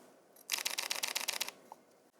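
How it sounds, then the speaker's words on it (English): A Fujifilm X-H1 mirrorless camera fires a fast burst of about ten soft, quiet shutter clicks in an even rapid rhythm, close to the microphone, then falls silent. "But the X-H1's shutter is quiet."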